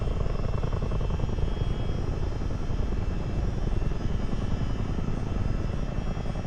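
A CH-47 Chinook tandem-rotor helicopter in Microsoft Flight Simulator drones steadily in flight, a loud, even rotor-and-turbine rumble with rapid blade chop and no pauses.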